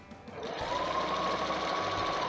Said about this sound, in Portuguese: ponho as duas costuras juntinho e vou costurar um pouquinho menor